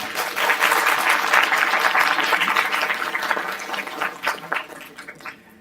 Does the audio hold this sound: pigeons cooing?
no